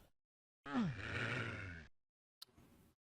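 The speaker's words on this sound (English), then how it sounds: "I hear breathing. It's usually a sign that something is nearby" Monster breathing in DOOM (TNT: Evilution), a single rasping, groaning exhale of about a second after silence, followed by a short faint hiss and breathy rustle.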